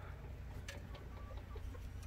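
Young Easter Egger chickens and a rooster cluck softly at a distance, a few short clucks scattered over a steady low background hum.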